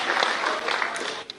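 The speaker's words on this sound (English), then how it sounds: "let's give each other, in fact all of you, a huge round of applause" Brief burst of audience clapping at a Meghalaya Games and Khelo India felicitation event, a dense spread of hand claps from a crowd fading slightly toward the end.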